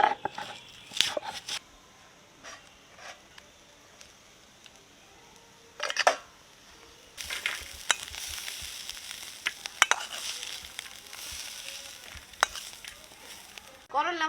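Bitter gourd frying in oil in a home kitchen gives a steady soft sizzle. Spoon scrapes and clatters come at irregular moments, with louder bursts of crackling when the pieces are stirred.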